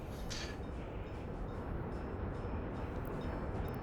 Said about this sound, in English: Yeah, this is our cement train